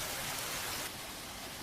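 Heavy rain in a cartoon story, a torrential overnight downpour flooding a village, pours as a steady, dense hiss with no voices over it.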